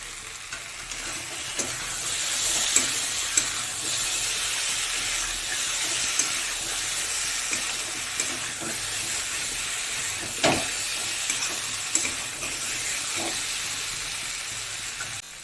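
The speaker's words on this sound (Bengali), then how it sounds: "আর এই যে ভেজে রাখা চিংড়ি মাছটা এবার দিয়ে দেবো।" Pre-fried prawns stirred into a cooked spice masala in a pan for a taro-root prawn curry, with steady sizzling hiss and occasional spoon scrapes and clinks against the pan, no talking.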